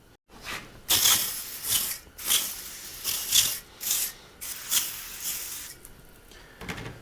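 Brake cleaner is sprayed from a can during an excavator valve control block rebuild on a Hitachi EX120-2, giving a series of loud, close hissing bursts separated by short pauses.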